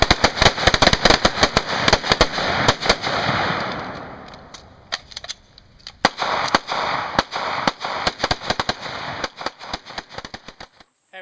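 Rifles, including an M1 Garand in .30-06, firing on a shooting range: many sharp, loud shots in rapid irregular succession from several shooters, thinning to scattered cracks later.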